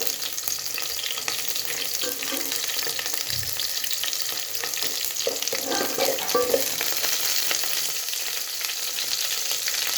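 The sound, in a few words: tempering mustard seeds, cumin, onion and curry leaves frying in oil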